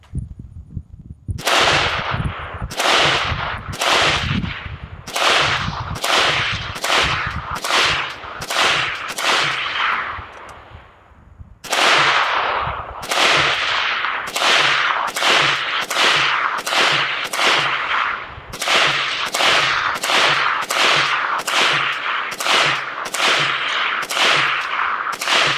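Long sustained bursts of rapid automatic fire from a Century Arms AK63D, an AK-47 variant rifle, during a 500-round continuous fire torture test, loud and close, with many rhythmic repeated strings, a brief pause midway, then firing resumes with no talk.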